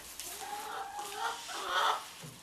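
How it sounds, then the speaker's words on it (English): Guinea hens call on a farm during winter chores, giving a few harsh, scratchy squawks at moderate distance over a soft outdoor background. "There's our guinea hens."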